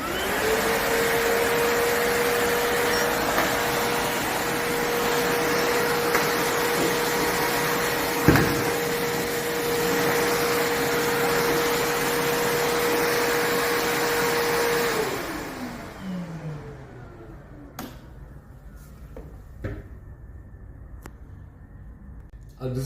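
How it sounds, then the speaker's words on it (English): A Makita 40V cordless VC005G vacuum cleaner runs with a steady, close, whining motor drone for about fifteen seconds, then spins down and falls silent apart from a few handling clicks, while a voice talks over it. "This is all about the new vacuum cleaner VC005."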